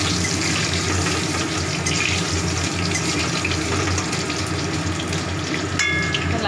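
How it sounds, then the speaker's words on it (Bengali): Potatoes frying in a pan of oil for a Bengali dish, a steady loud hiss and crackle that fills the whole stretch without a break, close to the pan, with no one talking. "আলুটা ভালো করে ভেজে দিচ্ছি।"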